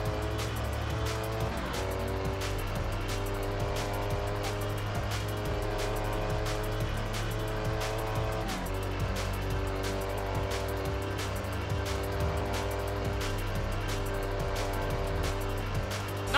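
A Koenigsegg races in the video game Test Drive Unlimited, its engine droning loud and steady with rising and falling revs and shifts, close and continuous with no voices.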